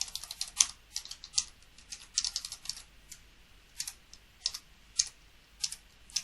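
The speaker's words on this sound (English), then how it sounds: "Now I'm going to type in firmware release." Keys clatter on a computer keyboard as a firmware release command is typed by hand, a close, quiet run of separate clicks in short irregular bursts with brief pauses.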